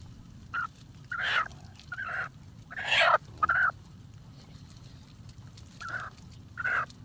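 A chicken caught in a snare trap gives short, agitated squawking calls in bursts of about half a second, a few of them louder, over a low steady outdoor background.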